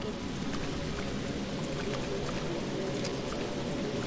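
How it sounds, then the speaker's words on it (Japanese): Water spilling down a step inside a dark flooded space in the horror game Fatal Frame: Maiden of Black Water, a steady close pouring rush with scattered drip-like splashes and no break. "箱の奥には段差があり水が流れ落ちている"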